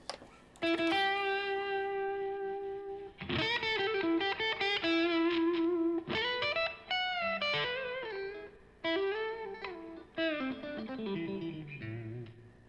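PRS S2 Studio electric guitar played through effects, ringing sustained chords and melodic lines with a slightly distorted, chorused tone, loud and alone with brief pauses between phrases.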